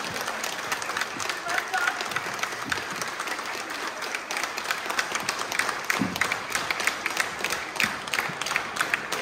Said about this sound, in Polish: dziękuję za wasze brawa